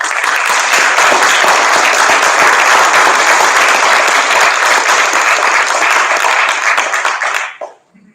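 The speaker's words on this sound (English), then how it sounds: "we should really give them a big round of applause" Audience applause at a Long Beach High School Wall of Fame ceremony: steady, dense clapping from a large crowd, loud and sustained for about seven seconds before cutting off abruptly into near silence.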